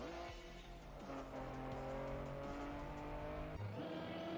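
A rally car engine in a racing video game revs and shifts pitch, steady whining tones with tire scrubbing and a sudden drop and thump near the end, quiet overall.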